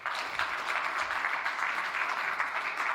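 Conference audience at a medical additive manufacturing event applauds a biotech startup speaker, a steady, even roar of many hands clapping that holds constant for the whole stretch.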